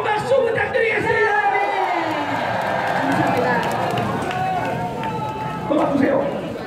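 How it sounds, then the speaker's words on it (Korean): A large outdoor crowd at a Jinju, Korea rally for dismissing the impeachment claps and cheers in a dense, steady roar that fills the scene, with voices shouting through it. "조갑재 대표님께 뜨거운 박수 부탁드리겠습니다."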